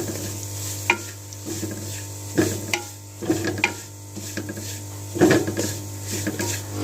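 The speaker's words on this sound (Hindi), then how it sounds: "अब 1 प्याली हमने सूजी ले ली है, सूजी की हम अच्छे से भुनाई कर लेते हैं।" Semolina is roasted in hot ghee in a pan for sweet potato halwa, with a spoon scraping and stirring in irregular strokes over a soft, steady sizzle, close and unaccompanied by talk.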